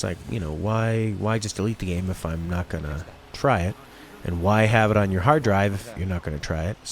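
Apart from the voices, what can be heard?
No distinct noise like a dog, phone or traffic.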